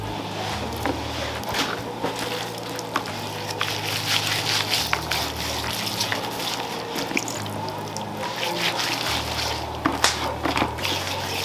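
Hands squish and knead a paste of vegetable oil, spices and fresh ginger for a Marrakesh-style lamb leg, giving continuous wet, sticky squelching and smacking under a low steady background hum.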